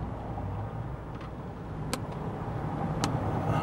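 Inside a moving car there is a steady, moderately loud road and engine rumble, broken by two or three sharp clicks or knocks.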